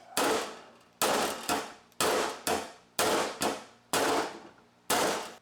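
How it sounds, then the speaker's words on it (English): A body hammer bangs on a car bumper in sharp metallic blows, about nine strikes in a steady rhythm with a few quick doubles, loud and close. "Get out the body hammer here."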